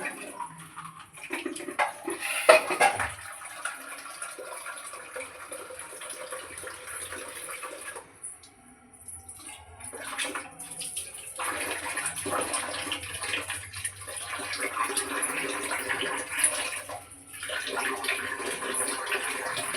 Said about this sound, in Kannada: ನೀರು ಬೋರ್ ಹಾಕಿದವ, ಹಾಗಾಗಿ ನೀರಿಂದು ಸೌಂಡ್ ಹೊಂಟದ